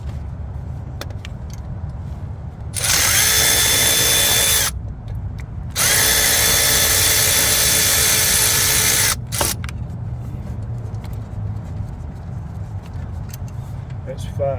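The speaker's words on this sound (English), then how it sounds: "Get the old ratchet on it." Power tool driving bolts on a Ford 2.7L water pump, two sustained loud whirring runs of a couple of seconds each, close, with garage background noise and a few clicks between.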